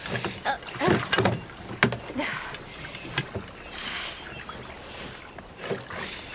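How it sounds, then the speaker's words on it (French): Oars dip and pull through the water beside a small rowboat, giving irregular splashes and wooden knocks that rise and fade over a soft, airy outdoor background, with faint voices now and then. "Fais des petits mouvements et garde tes rames en surface."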